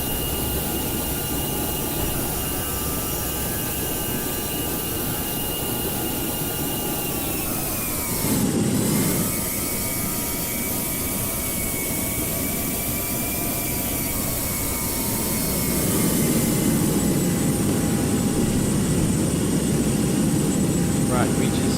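Jet engines of a British Airways A320neo taxiing in a flight simulator game, a steady whining drone with a brief swell and dip partway, then a louder rumble near the end, with a voice talking over it.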